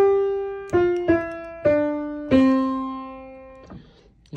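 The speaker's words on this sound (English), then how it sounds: "That's Joy to the World. It's a very old, famous Christmas carol." Joy to the World melody played on a keyboard: a short descending run of clear, sustained single notes in rhythm, each struck note decaying gently, close and alone without talk.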